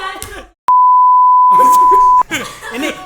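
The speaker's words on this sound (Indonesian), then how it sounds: "Gua mikirnya tuh ringtone handphone." A single steady electronic beep, like a phone tone, holds loud and unchanging for about one and a half seconds during a podcast, with talk just before and after it.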